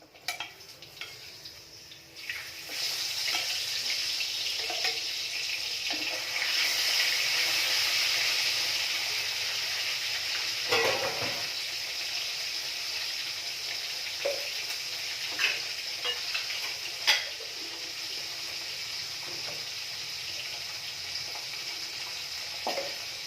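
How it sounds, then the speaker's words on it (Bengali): Pieces of fish fry in a pan, a steady hissing sizzle that swells after a quiet start, with occasional clinks and spatters over roughly twenty seconds, no speech. "মাছ ভাজা হয়ে গেছে, আর 2 পিস আছে, এটাকে ভেজে নিই।"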